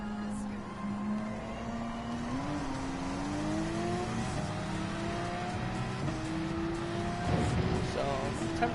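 Race car engine in the video game Gran Turismo 7 drones steadily at high revs, pitch climbing gradually while trailing in a slipstream, with a brief rougher burst near the end.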